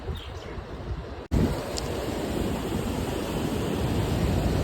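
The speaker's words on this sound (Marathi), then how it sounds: "बघू शकतो पाणीचे आवाज" A steady, loud roar of water rushing through the open gates of Girna Dam near Nashik, filling the scene without pause, broken only by a brief cut near the start.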